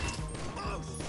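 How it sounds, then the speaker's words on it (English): Security camera smashed in a GTA video game, a dense crash and clatter of breaking hardware under continuous game noise and a voice, brief and close. "Destroyed the camera."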